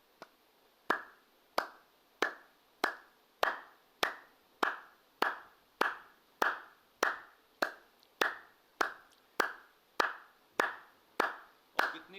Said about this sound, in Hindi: ताली योग ऐसे करो, ये हाथ ऐसे होने चाहिए